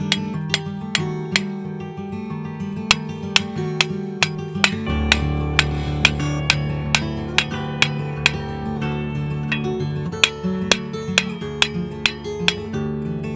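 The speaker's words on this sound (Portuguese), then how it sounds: "a fixação das estacas deve ser feita com o martelo ou a marreta sobre um pedaço de madeira em cima da base" Sharp, evenly spaced hammer blows drive metal stakes for a pergola kit through a protective wood block, a steady series of loud knocks over a low background rumble.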